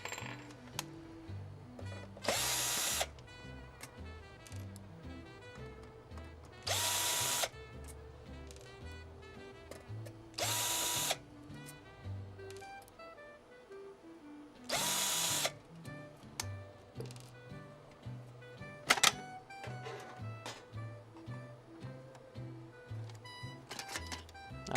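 A power drill backs screws out of the bottom of a vintage console, giving four short whirring bursts spaced a few seconds apart over quiet clicking and handling noise, with no talk.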